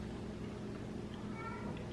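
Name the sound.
cat meowing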